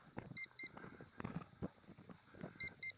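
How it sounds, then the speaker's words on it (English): Pairs of short high electronic beeps from a Zhiyang ZY425 land-sea-air RC airplane come and go over splashing, watery handling noise nearby as it runs underwater. "I wonder what that beeping's about."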